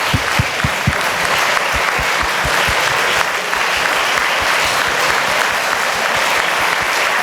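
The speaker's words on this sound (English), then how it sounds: "Please, a round of applause for Mrs. Ban and Secretary General Ban." Steady audience applause at an annual dinner honoring UN Secretary-General Ban Ki-moon and Mrs. Ban, sustained clapping from a large crowd in a banquet hall, with a few near, distinct claps at the start.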